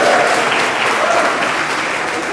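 Comedy show audience breaks into continuous loud applause, a dense, even wash of clapping throughout with no pause.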